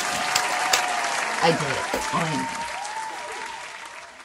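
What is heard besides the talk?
applause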